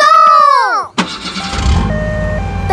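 A cartoon super car sets off after a brief whoosh, its engine starting up and revving into a steady mid-pitched drone with tonal, chime-like notes above, loud and close.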